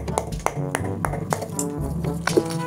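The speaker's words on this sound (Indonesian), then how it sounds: "Wadah ini aku ketok dulu ya." A plastic toy capsule container is knocked several times in quick, uneven succession, each sharp tap clear and close, with a voice sounding underneath.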